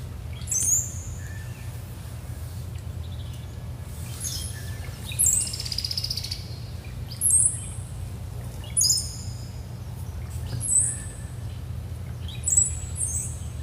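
Birds chirp and call in short bursts every couple of seconds over a steady low hum.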